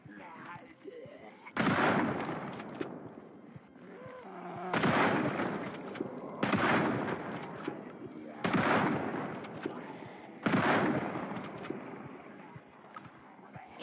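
Gunfire in the Project Zomboid video game: five loud, sharp shots spaced about two seconds apart, each with a broad crack and decaying tail, over quieter background game sound.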